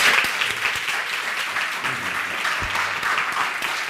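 Audience applause at a talk, a dense patter of clapping hands holding steady from start to finish, with faint voices underneath.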